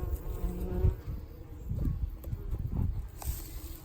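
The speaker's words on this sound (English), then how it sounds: "See all those bees?" Bees buzz around farm beehives in September, a close, wavering drone of many insects with individual bees swelling loudly past the listener, and no one speaking.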